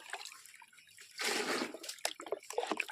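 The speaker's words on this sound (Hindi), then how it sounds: "और चलो इसमें पानी थोड़ा सा डाल देती हूँ" A small amount of water is poured into a container during a village morning routine, a soft, brief splashing trickle in the middle, surrounded by faint drips and light clatter in a quiet setting.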